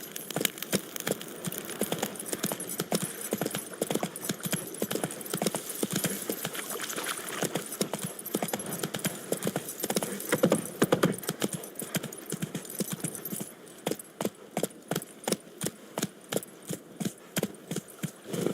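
Horse hooves clip-clop in a steady galloping rhythm in The Witcher 3, continuous and moderately quiet, with the beat growing sparser and more distinct toward the end.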